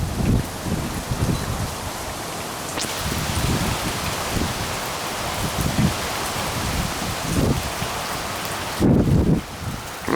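Strong gusty winds from Tropical Storm Nicholas blow steadily in Houston, Texas, a dense broadband roar with rain-like patter and periodic heavier low buffets, loud and close throughout.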